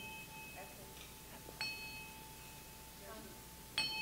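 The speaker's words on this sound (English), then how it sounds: "I would tap the Tibetan bell to acknowledge their presence" A Tibetan bell is tapped twice, each strike giving a bright, clear ring that lingers softly over a quiet room with low background hiss.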